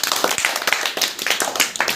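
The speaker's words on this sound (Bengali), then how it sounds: "অমৃতার জন্য হাততালি।" A classroom group applauds a student, a close burst of many hands clapping in quick, uneven rhythm for two seconds, with a faint voice briefly underneath.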